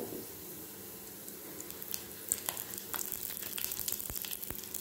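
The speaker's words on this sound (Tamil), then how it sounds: "பாருங்க நல்லா வறுத்துருக்கோம். நம்ம அதை இப்போ நம்ம இது கூட 2 பூண்டு சேர்த்துக்கலாம்." Ridge gourd and garlic fry in a pan for a thuvaiyal with a busy, crackling sizzle. Sharp spatters and light stirring clatters pick up partway through, close and steady, with no talk.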